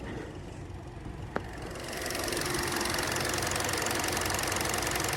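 A 2025 Kia K4's 2.0-litre four-cylinder engine idling steadily and smoothly, a close, even hum that grows slightly louder after a sharp click.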